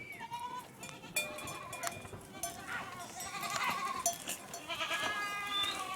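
Large Honamli goats bleat repeatedly at a farm in Antalya, several overlapping wavering calls at moderate distance against a soft background of shuffling and faint voices.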